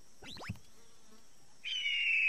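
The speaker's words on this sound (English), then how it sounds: "I hear a hawk." A hawk call, a sharp descending cry near the start, followed by a loud sustained high whistling tone, with no talk.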